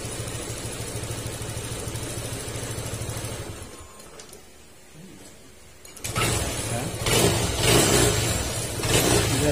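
A Honda Click160 scooter engine idles steadily after a misfire repair, a continuous low hum that dips briefly, then returns louder with brighter mechanical noise and no speech.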